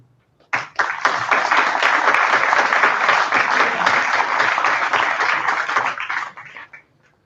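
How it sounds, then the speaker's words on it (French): A crowd at a graduation ceremony bursts into sustained applause, dense clapping at an even level for about six seconds before tapering off. "Vous pouvez les applaudir."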